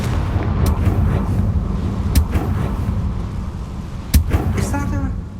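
A Confringo spell in Hogwarts Legacy bursts with sharp blasts over a rumbling, booming game backdrop, with several distinct cracks spaced a couple of seconds apart and a voice speaking briefly near the end.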